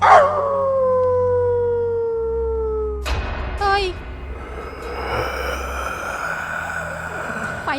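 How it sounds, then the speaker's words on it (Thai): Dogs howl at night in a rural Thai village, one long wavering howl sliding downward and then more howls answering one another, clear and fairly close over a steady low background hum. "บ่อยครั้งที่หมาหอนรับกันเป็นทอดทอด"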